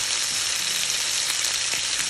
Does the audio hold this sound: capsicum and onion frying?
yes